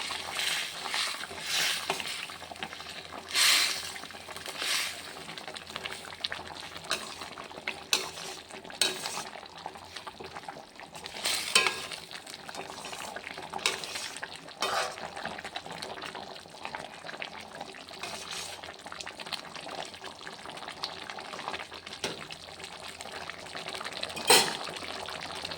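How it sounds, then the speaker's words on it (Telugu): A ladle stirs bitter gourd tamarind stew with jaggery and spice powders in a pot, giving soft intermittent scrapes and clinks over a faint bubbling simmer, close and fairly quiet. "అలాగే బెల్లం, మొత్తం అంతా బాగా మిక్స్ చేద్దాం."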